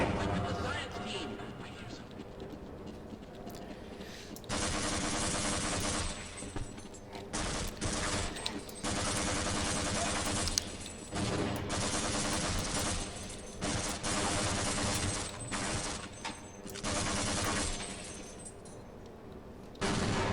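Sustained bursts of automatic gunfire and rapid shots from soldiers fighting in the Half-Life video game, loud and dense with brief lulls, under a talking voice.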